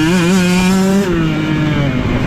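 A 2023 KTM 125 XC two-stroke dirt bike with throttle body injection, ridden on wooded trails with the clutch feathered, gives a loud, close, buzzing engine whine that rises and then settles as the revs change.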